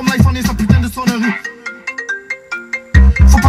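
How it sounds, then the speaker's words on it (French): The iPhone ringtone melody chimes in bright, clear plucked notes within a rap song, rising and falling in a quick repeating pattern between bursts of heavy beat and vocals. "La sonnerie de l'iPhone, c'était pas moi, c'était dans le son"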